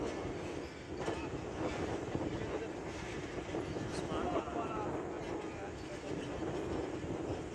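A train rolls into Basirpur station with a steady rumbling rattle of wheels and carriages, heard from onboard with constant wind noise, while someone talks over it.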